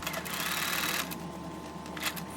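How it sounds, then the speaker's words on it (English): A sewing machine runs steadily while stitching a short section of a sofa slipcover body, a continuous close whirring that eases slightly partway through with a few brief clicks. "So I'll sew this little section."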